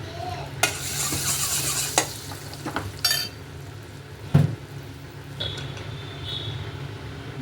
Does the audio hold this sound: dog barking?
no